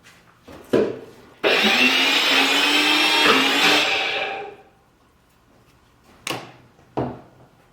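Greek yogurt and olive oil are mixed into a sauce: a few short scraping knocks, then a sustained three-second stretch of vigorous whisking or stirring, followed by quiet and a couple more brief scrapes.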